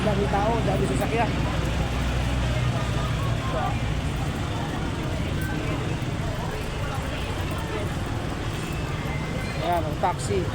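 Dense, continuous roar of traffic on a narrow, crowded street in Baguio City packed with people and vehicles, a steady wash of engines and bustle with voices mixed in throughout.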